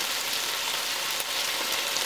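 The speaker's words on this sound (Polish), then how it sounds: "Smażę po 4-5 minut z każdej strony." Chicken breast fries in a pan over raised heat, giving a steady, close, even sizzle with gentle crackling throughout and no voices.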